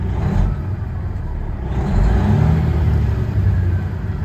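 A 2015 Kenworth W900L pre-emission glider kit truck idles with a deep, steady diesel rumble close by, then the engine revs up smoothly and holds at higher RPM.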